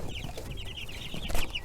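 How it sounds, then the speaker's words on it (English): Young chicks peep and cluck around a 3-pound feeder, a continuous chorus of short high chirps close by with soft rustling underneath. "You can kind of see all the chicks there."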